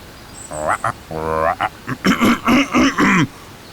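Cartoon frog characters croak a night serenade in a children's animation: a run of short, voiced, throaty croaks in uneven bursts, loud and close, with voices imitating the calls.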